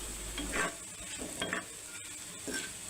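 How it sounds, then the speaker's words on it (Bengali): Dried red chillies dropped into hot ghee for a tempering over lentils and jute leaves, giving a steady close frying sizzle with bursts of crackle and light stirring, no talk. "এখন দিয়ে দিচ্ছি কয়েকটা শুকনা মরিচ"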